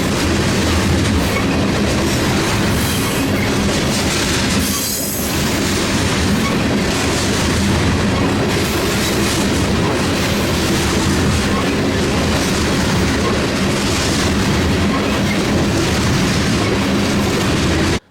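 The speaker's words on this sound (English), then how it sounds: "a manifest exited the yard and rolled towards me" A manifest freight train rolls out of a rail yard in Galesburg, Illinois, loud and close. Its rumble and wheel clatter run steadily through the whole clip, with no voices.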